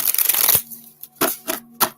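Oracle cards are shuffled in several quick bursts: a long riffling rustle, then three short snappy shuffles, close and crisp with a faint steady hum between them.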